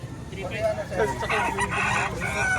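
A rooster crows at a poultry market in Lipa, Batangas, amid a busy background of other birds and clucking chickens, fairly close and loud throughout.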